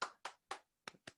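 A few people clapping in a room at a memorial life celebration: five separate, crisp claps in an uneven rhythm, fairly faint and close, with no talk over them.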